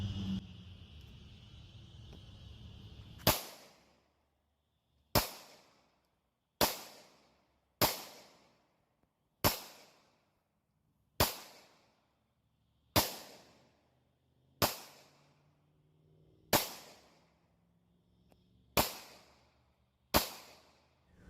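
Taurus GX4 pistol firing various ammunition at an outdoor range: eleven loud, close, sharp shots at irregular intervals of one to two seconds, each with a short decaying echo, after a brief stretch of low background noise.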